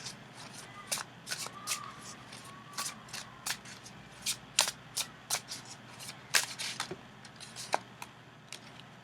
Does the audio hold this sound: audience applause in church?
no